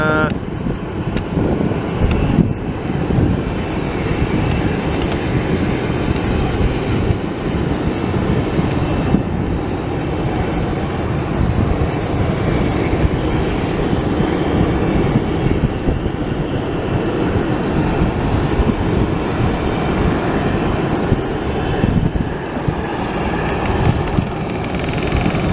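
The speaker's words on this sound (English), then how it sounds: "767 going to France" A Boeing 767 airliner bound for France flies past, a continuous heavy roar of jet engines sustained at steady loudness for the full duration, broad and rumbling without clear voices.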